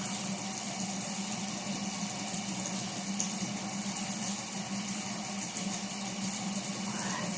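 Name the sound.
water while washing face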